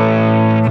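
Brief sustained distorted electric guitar chord through a Tonex amp model with a post compressor, loud and smooth with a rich held tone that cuts off sharply.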